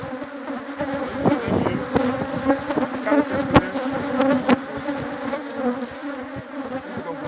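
A crowded, full honeybee hive hums with a dense, continuous buzz from many bees, steady and close. Occasional louder individual buzzes pass near the microphone, and no one speaks.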